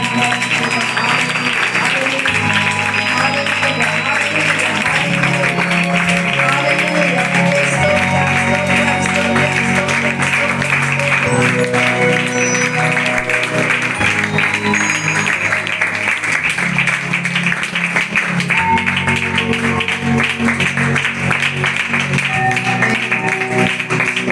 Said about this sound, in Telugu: ఈ సమయంలో గట్టిగా చప్పట్లు కొట్టి